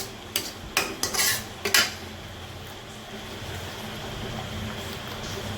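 Minced meat and tomato masala being stirred in a pan for a bottle gourd kofta curry, opening with several loud scraping strokes of a spoon against metal, then fading to a soft steady sizzle.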